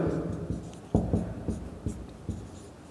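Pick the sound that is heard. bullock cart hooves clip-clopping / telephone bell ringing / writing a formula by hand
writing a formula by hand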